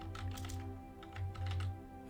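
Rapid computer keyboard typing during a Hearts of Iron IV strategy game session, bursts of close, clicky keystrokes over a steady low game hum.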